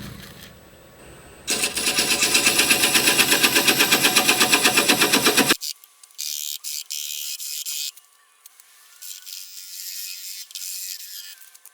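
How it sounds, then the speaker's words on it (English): A wood lathe spins a large wooden sink blank while a small mortise is turned, giving a loud, steady whirring hum with a rapid pulsing beat that cuts off abruptly, then quieter intermittent tool noise follows. "I'm only going to be turning a small mortise here before we flip it around and put it in the chuck"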